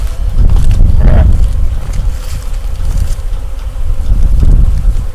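Carniolan honey bees swarm around a newly opened nucleus hive in a loud, close, continuous buzz. Wind noise rumbles underneath and the drone swells and fades in places.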